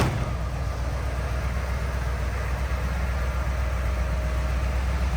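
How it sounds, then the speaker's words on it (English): A 1981 Cadillac Eldorado, fuel injected with air conditioning, idles with a subdued, steady exhaust rumble that stays even and unbroken throughout, with no voices. "Hear that nice subdued exhaust sound."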